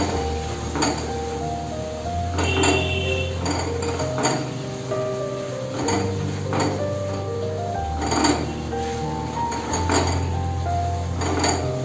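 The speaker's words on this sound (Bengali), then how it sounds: "সেদ্ধ করে রাখা কচুটা দিয়ে দেবো, দিয়ে ভালোভাবে মশলার সাথে কষিয়ে নেব।" Boiled taro and fried potatoes being sautéed with spices in a pan for a taro, potato and prawn curry, with steady metallic clinks and scrapes of a spatula against the pan over continuous background music.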